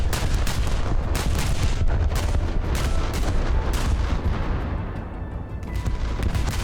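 Enemy warship guns fire back in the naval battles of War Thunder, a dense run of heavy booming shots and rumbling blasts, loud and continuous with no talk.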